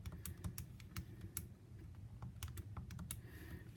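Quick, irregular clicks of keys pressed on a graphing calculator while values are entered for a statistics list, light close taps over a quiet room tone with no talking.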